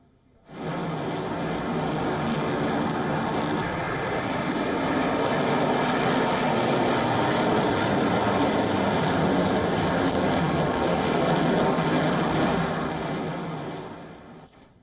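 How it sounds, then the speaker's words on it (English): US Air Force B-1 bomber taking off for strikes, a loud sustained roar of jet engines that rises quickly, holds steady for over ten seconds, then begins to fade. "CENTCOM has also shared a video of US B-1 bombers taking off for the strikes in"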